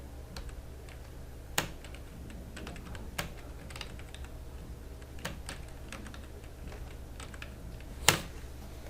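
Someone types on a computer keyboard in the Bijoy Classic Bengali layout: a quick, irregular patter of keystrokes with a few sharper, louder clacks, close by over a low hum, with no talk.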